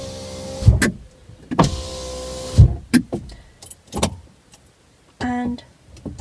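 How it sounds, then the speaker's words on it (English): Power windows on a Fiat 500 Lounge closing inside the car: a steady electric motor whine runs for about a second near the end, after several short clicks and thumps, with no speech. "So I'm going to pull my windows up."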